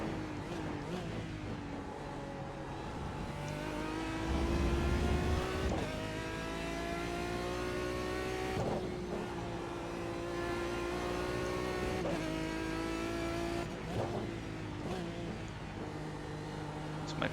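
Lotus 79 and Aston Martin DBR9 GT1 race cars in iRacing, an engine droning steadily and loudly throughout, with repeated rising revs and gear-shift dips as it accelerates, occasional brief tyre squeal.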